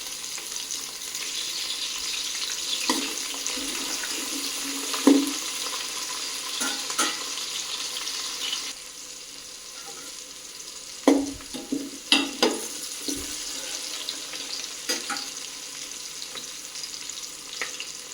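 Chopped vegetables for veg biryani sizzle steadily in a pan, with scraping stirs and occasional clinks of the spoon against the vessel, close and moderately loud.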